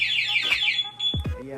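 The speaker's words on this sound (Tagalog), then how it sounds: "Isa pang galaw, tutunog na po yung remote. Tapos mag-alarm." A Yamaha alarm installed on an Aerox V2 scooter sounds in a brief burst of warbling siren tones followed by a descending electronic sweep, loud and close.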